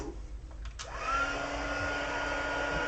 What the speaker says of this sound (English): when you're heating vellum, let your heat tool warm up a little